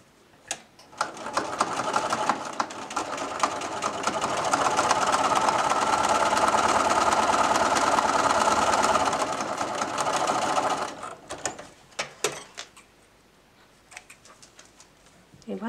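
A sewing machine topstitches a fabric protective face mask with elastic straps, a loud continuous whirring run of about ten seconds, followed by a few short clicks and handling noises.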